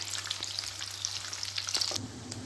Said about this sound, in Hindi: तो ये देखें कोफ्ते हमारे माशाल्लाह से जो हैं वो फ्राई हो रहे हैं।